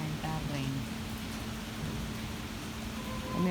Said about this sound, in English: I'm going to film the entire rain.